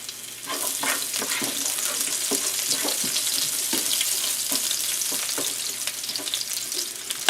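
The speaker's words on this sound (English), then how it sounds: "So I have about 4 cloves of garlic that I've sliced up. So we're going to start cooking that." About four sliced garlic cloves fry in a pan on medium heat, giving a continuous close crackling sizzle with small pops throughout and no talk.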